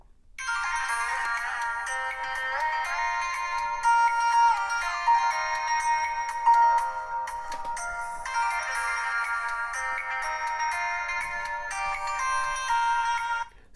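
A ZTE Blaze ZMAX phone plays a bright melodic ringtone through its rear speaker, fairly loud and repeating its tune twice in a steady loop with no voices.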